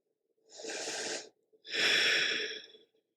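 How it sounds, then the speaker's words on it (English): Two deep, slow breaths during a gentle yoga flow, a long airy inhale followed by a fuller, louder exhale, close and steady with no talking over them. "Breathing."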